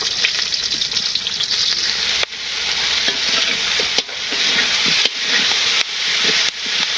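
Bhaji pieces frying crisp in a pan in a village kitchen, a loud close hissing sizzle that keeps going, broken every second or so by abrupt stirring or turning jolts, with no one talking.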